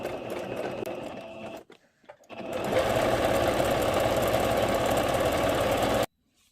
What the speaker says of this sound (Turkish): Dikişimi bir makine ayağıyla dikiyorum.